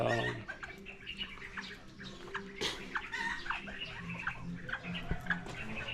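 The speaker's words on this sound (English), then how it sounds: "You see, them birds, they dig in my pots for bugs" Birds chirp and call in short, scattered bursts around potted plants in a garden in the Philippines, with splashy, water-like rustling underneath and a few sharp clicks.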